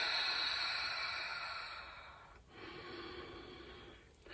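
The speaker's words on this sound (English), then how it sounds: "So let's breathe a couple of breaths more." Slow, soft breathing during a guided meditation, a long airy exhale fading out, then a quieter inhale, close and faint with no talking.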